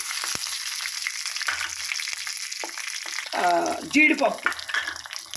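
Hot ghee crackles and sizzles steadily in a pan as dried red chillies temper, with a brief voice speaking partway through over the spattering.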